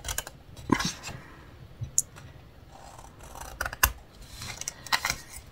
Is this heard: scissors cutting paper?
yes